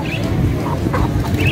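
Roosters at a busy bird market in Hyderabad cluck and squawk in short, nearby bursts over a dense, constant crowd murmur.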